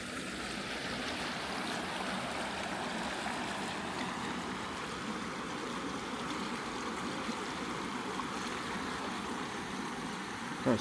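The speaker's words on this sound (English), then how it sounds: "I think I can hear the river" The River Sence flows past with a continuous, soft, broad rushing wash, steady and fairly faint throughout, with no voices.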